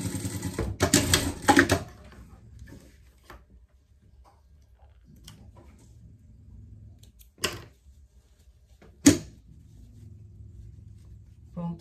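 A sewing machine stitches a seam on girls' panties in a short burst of fast, rattling needle clatter near the start, then quiet with a few isolated clicks and taps.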